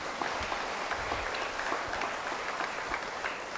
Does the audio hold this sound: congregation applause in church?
yes